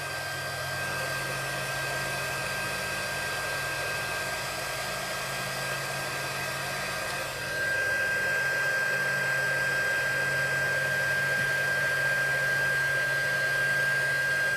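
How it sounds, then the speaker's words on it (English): A craft heat tool set on high blows steadily for about fifteen seconds while embossing a stamped card, giving a constant loud fan whir and airy hiss, close and alone. "emboss this with the heat tool on high"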